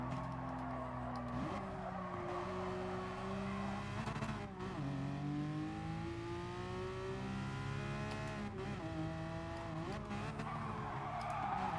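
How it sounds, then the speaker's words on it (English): Race car in GT Sport, engine droning steadily with sharp pitch shifts as it downshifts, mixed with skidding tire squeal throughout. "Whoa, downshifted. And it shouldn't have."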